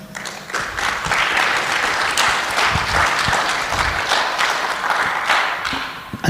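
An audience at a corporate wellness day applauds, producing a dense, continuous wash of clapping that holds at a fairly loud, even level throughout, with no speech over it.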